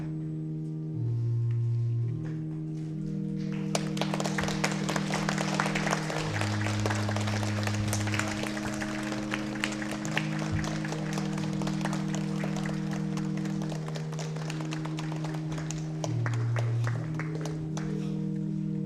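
A church congregation at a Sunday morning Methodist service applauding, with steady sustained clapping from many hands over held organ or keyboard chords, loud and continuous for most of the stretch.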